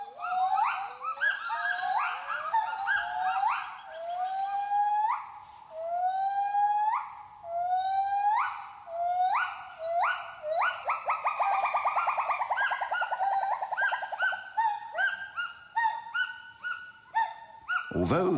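Gibbons call from the Thai rainforest canopy in a long, loud series of rising, whooping hoots that build into a rapid, bubbling climax before trailing off into scattered calls.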